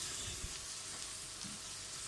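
Garlic hitting a hot pan for a meat and macaroni tagine, a steady, even sizzle that stays close and moderately loud without speech.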